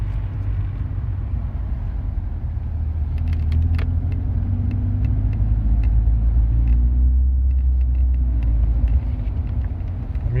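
Inside a modified Audi A4 on the move, a steady loud low rumble and road drone fill the cabin, with faint rattles of loose items ticking above it throughout.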